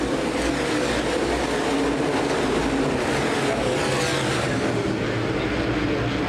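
USA Modified Series stock cars at Winchester Speedway roar past the start-finish line in a steady, dense engine drone with a broad wash of track noise, loud and continuous throughout.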